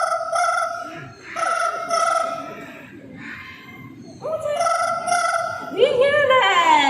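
A parrot mimics a ringing telephone during a bird show at Jurong Bird Park, giving repeated bright electronic-style trills in short bursts, loud and close, with a crowd's murmur underneath.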